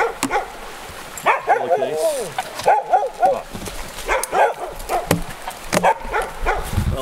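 Several dogs bark, yip and whimper nearby in an excited, uneven series of bursts, mixed with people talking close by during outdoor fieldwork with a timber rattlesnake.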